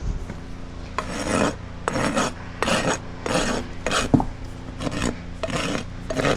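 A hoof rasp files across a horse's hoof wall after nipper trimming, giving a run of rhythmic gritty scraping strokes, about eight to ten passes, close and clear with short pauses between them and no talk.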